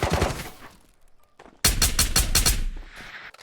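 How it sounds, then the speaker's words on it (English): Bursts of rapid gunfire in the Ghosts of Tabor VR shooter on an island map, a short volley fading out, then a loud sustained string of evenly spaced automatic shots after a pause, with no talk over them. "Why are they still shooting?"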